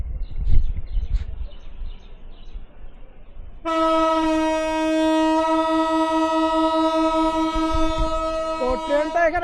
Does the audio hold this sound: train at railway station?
yes